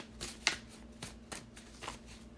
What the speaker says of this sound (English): I'm gonna shuffle for you.